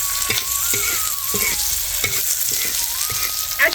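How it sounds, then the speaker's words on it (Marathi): Coriander seeds and dried chillies sizzle steadily as they roast in a pan, with a close, bright frying hiss and several soft scrapes of stirring at a regular pace, no voices. "तळतळू द्यायचे धने मिरची धने कुटाने भाजून घेते"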